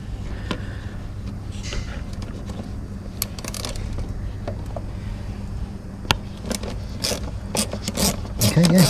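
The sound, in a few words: flexible head Snap-on 10mm socket ratchet undoing a screw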